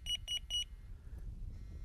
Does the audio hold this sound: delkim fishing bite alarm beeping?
yes